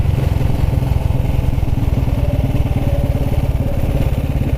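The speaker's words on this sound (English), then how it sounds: "See again, your engine's still turning." A 1929 Ariel motorcycle single-cylinder engine idling on a country lane, a steady, loud, close-up rhythmic thumping chug that runs unbroken throughout with no talk.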